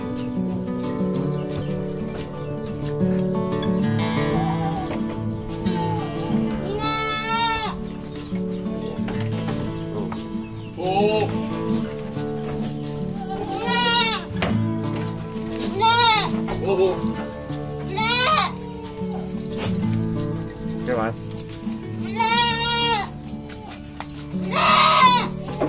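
Javanese Randu and PE goats bleat repeatedly in short wavering calls over a steady bed of music or background noise, several bleats spaced through the recording at moderate loudness.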